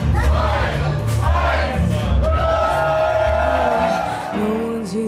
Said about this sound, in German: Und dann zählt das Publikum den Star für das Konzert ein.